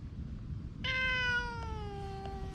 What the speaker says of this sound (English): So now we have these two lovely cats that we've brought with us.